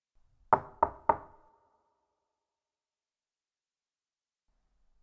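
Three sharp knocks on a door in quick succession, loud and close in an otherwise silent room, followed by a long pause.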